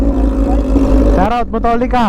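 A sportbike's exhaust revs loudly in heavy city traffic, a deep rising engine drone with strong harmonics that swells near the end, while someone talks over it.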